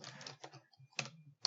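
Close, quiet typing on a computer keyboard while working in an Excel spreadsheet, a few quick clusters of key clicks separated by short pauses.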